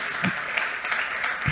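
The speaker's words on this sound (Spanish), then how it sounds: "bueno, los aplausos, sí." An audience at an international communication research colloquium in Peru applauds steadily and continuously, a dense even patter of many hands clapping throughout.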